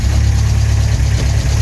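A Vauxhall Astra GSi Redtop engine idles steadily at operating temperature, a loud, close, even low rumble with a constant pulsing beat and no voices.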